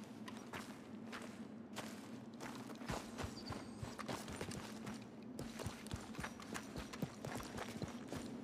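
Horse hooves clip-clop at a steady walking pace in Red Dead Redemption II, fairly close and continuous, with some irregular thuds mixed in and no talking.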